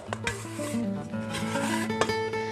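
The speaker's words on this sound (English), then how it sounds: "Now you take your little scraper here, and you scrape out your dough" A small scraper dragging bread dough out of a bowl onto a floured board, a continuous close rubbing scrape with a couple of sharper knocks, no talk over it.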